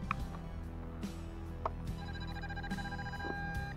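An MJX Bugs 3 mini drone in acro mode gives off repeated phone-like electronic ringing beeps: short, fairly faint tones in a steady pattern over a constant low hum.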